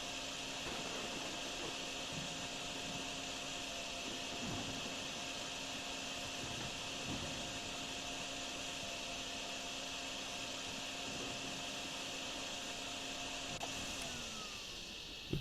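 A vacuum draws up water in the DrainSim video game, a steady loud whining drone with a constant hum that runs unbroken for the whole stretch before cutting off.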